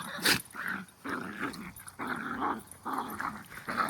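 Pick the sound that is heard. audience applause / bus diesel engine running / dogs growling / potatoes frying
dogs growling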